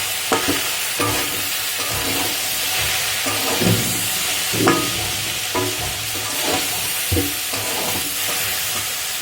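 Chaldar pickle being stirred in a sizzling pan with chilli powder and salt, a spoon scraping in repeated strokes over a loud, continuous frying hiss.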